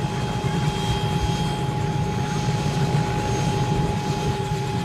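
A wedding helicopter arrives in Barmer before a large crowd, giving a steady droning engine and rotor rumble at moderate distance, with a constant low throb and thin tonal whine.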